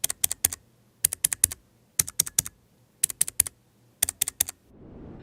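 Keys on a low-profile Keychron K3 v2 wireless keyboard with blue optical clicky switches are pressed in quick bursts of three or four sharp clicks about once a second, crisp and close, with no talking.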